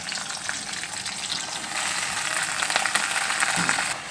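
Kharkol frying in a pan with garlic and green chili, a loud continuous sizzle that swells in the second half as the pieces are stirred, with scraping and crackling over the hiss.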